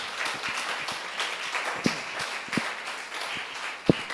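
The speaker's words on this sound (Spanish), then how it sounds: "Denle un aplauso al Señor" A church congregation applauding during a Spanish-language sermon, a steady wash of clapping with a few sharper close claps standing out, moderately loud and without speech.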